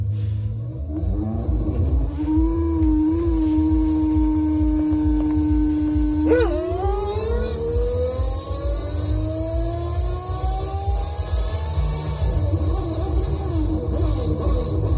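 A tuned car engine with adjusted cam settings idles with a loud, close, steady low drone. Midway it blips and its revs climb gradually, and there is no talk.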